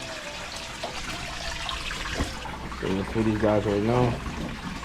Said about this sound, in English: So right now we're about to transfer this water into that container.